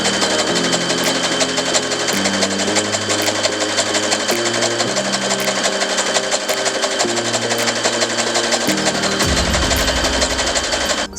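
A sewing machine runs a zigzag stitch along a fabric edge, a loud, steady mechanical whir with rapid needle clatter that continues unbroken and alone, with no voices.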